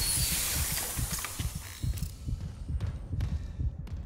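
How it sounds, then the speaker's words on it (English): Rapid, racing heartbeat from the Dead Space video game, a steady run of deep thumping pulses carrying on for several seconds at moderate loudness, with faint ambient game hum and scattered high ticks, no talking. "his heartbeat is like going crazy"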